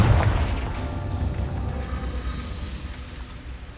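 A Confringo fire spell explodes in Hogwarts Legacy, opening with a loud, deep boom that fades into a long rumbling decay with no talk over it.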